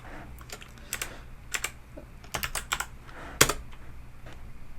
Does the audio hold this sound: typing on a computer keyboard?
yes